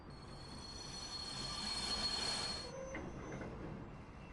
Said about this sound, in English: I just love the sound of the wagons shunting backwards and forwards.